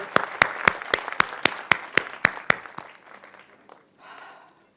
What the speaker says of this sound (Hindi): इनको जोरदार ताली के साथ एक बार थैंक यू